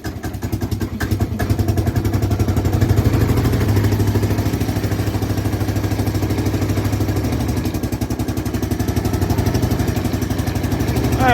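Snow blower engine idling after a choked start, a steady loud chugging rumble close by with a fast even beat and slight surging, running alone without talk.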